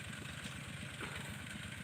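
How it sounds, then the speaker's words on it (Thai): A walk-behind tractor engine runs outdoors at a steady, throbbing idle, a low rapid chugging pulse that stays constant and moderately faint, with no voices. "ใช่รถไถเดินตามครับผม"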